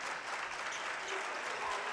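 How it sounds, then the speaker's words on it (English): Spectators in the Port section clap steadily at a 2022 WIAA high school basketball game, a dense, continuous patter of applause from a nearby crowd in a gym. "Port section clapping to get their team fired up"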